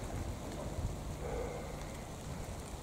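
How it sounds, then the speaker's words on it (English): Dense, steady rain hiss with low wind rumble buffeting the microphone, continuous and fairly close. "It's pouring with rain again."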